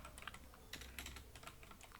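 Quick, light keystrokes on a computer keyboard tap out text in an irregular run of clicks, close and fairly quiet, with no talking.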